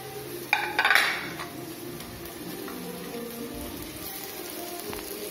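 Metal utensils clatter and scrape in a pan as onion and green chilies go in for a ladies finger fry, a short burst of clinks at the start giving way to a soft, steady sizzle.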